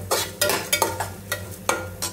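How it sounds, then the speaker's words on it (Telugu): Dried red chillies and garlic fry in a pan, a steady sizzle broken by repeated scraping strokes of a spatula, close and clear with no voices. "గార్లిక్ యాడ్ చేసుకున్న తర్వాత ఫ్రై చేసుకోవాలి।"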